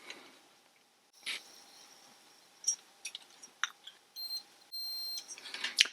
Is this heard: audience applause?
no